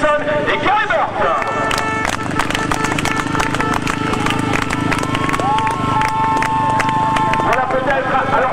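Crowd noise at a 2008 sidecar motocross world championship round in Bourg-Bruche, a steady broad roar with scattered clapping and cheering under a loud public-address announcer.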